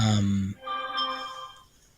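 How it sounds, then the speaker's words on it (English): A phone ringtone chimes in a steady tonal burst for about half a second, then a fainter melodic ringing carries on more quietly before fading out. "let me mute that phone."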